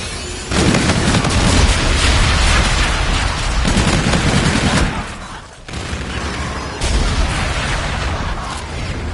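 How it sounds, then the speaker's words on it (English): Friendly bombardment in a Call of Duty-style hardpoint match: dense, loud explosions and rapid gunfire roll continuously, with a brief dip in the middle before the barrage resumes at full strength. "Friendly bombardment incoming."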